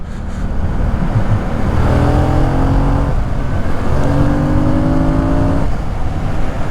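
A motorcycle engine, heard from the rider's helmet, revs up in rising sweeps broken by brief gear-change dips, loud and close over steady wind rush.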